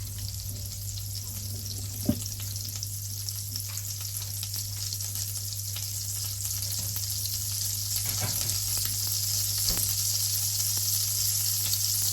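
Fish fries in butter with olive oil in a pan, a steady bright sizzle running throughout with a low hum beneath and an occasional soft knock; no voices.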